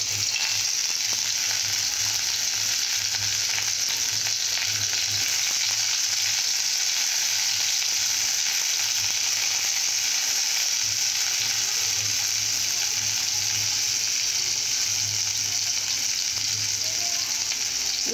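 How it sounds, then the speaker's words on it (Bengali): Bitter gourd frying in oil in a pan, a continuous close sizzle with occasional stirring scrapes and a low intermittent hum underneath, steady throughout with no voices. "প্রথমে উচ্ছে দিয়ে ভেজে নেব।"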